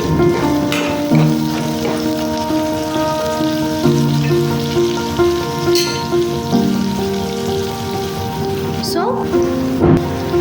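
Onions sizzle and crackle steadily in a pan as they brown for egg fried rice, a continuous frying hiss running the whole time beneath prominent background music.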